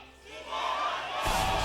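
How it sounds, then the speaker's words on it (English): A packed esports stadium crowd at a League of Champions Korea summer match cheers, a swelling roar that surges louder partway through the short burst. "CJ fans still cheering him on."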